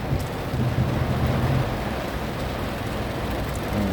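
Steady rain falls on a city street, a dense even hiss with faint traffic rumble underneath and no talking.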